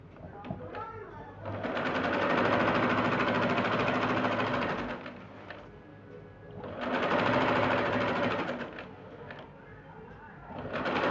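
A sewing machine stitching the side seam of a kurti with the fabric laid inside out, running in two steady whirring bursts of a few seconds each with brief pauses, while someone talks quietly around them.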